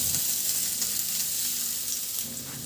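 Garlic sautéing in a little oil in a pan that already cooked food for ginisang pechay, giving a steady close sizzle with soft crackle, no voices.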